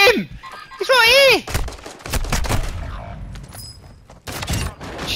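Gunfire in the video game Warzone: loud, close bursts of shots and clattering mechanical noise, mixed with a shrill warbling tone and excited voices talking over the action.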